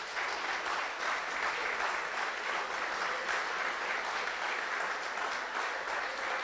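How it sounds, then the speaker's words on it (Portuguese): A church congregation claps in praise during a sermon, a full, steady roar of many hands that holds evenly for several seconds with no talk over it. "vamos aplaudir o nosso Deus"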